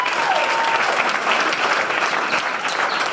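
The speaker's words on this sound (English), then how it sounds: "Can we just give a round of applause for you" A crowd at a Black History Month celebration applauds, dense and sustained. The clapping is loud and even throughout, with no pauses.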